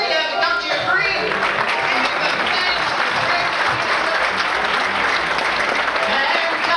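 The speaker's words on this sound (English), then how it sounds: "I believe it's time for everybody to stand up and give the Lord a hand clap of praise tonight." Church congregation standing and clapping hands in praise, loud continuous applause close by, with voices mixed into the clapping.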